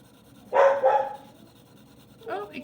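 A puppy barks and yips excitedly indoors, one loud burst of two close barks followed by a short, softer whimpering yelp about two seconds later.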